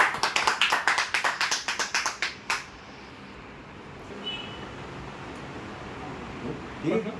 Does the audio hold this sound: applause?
yes